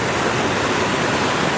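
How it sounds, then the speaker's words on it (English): Upper falls on Moonlight Creek, with the creek running high, sends up a steady, dense roar of falling water that stays even and unbroken throughout, close by and with no voices. "I'm at the top of the upper falls on Moonlight Creek, and you can see Adrian there taking a photo"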